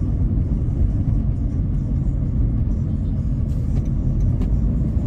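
A Toyota Raize with a 1.2-litre engine and CVT accelerates along a road, heard from inside as a steady, loud low rumble of engine and road noise with no talk.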